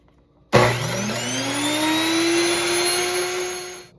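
An electric grain mill set to its finest grind switches on abruptly and runs loud and steady, a high whining motor drone that rises slightly in pitch and holds until it stops near the end.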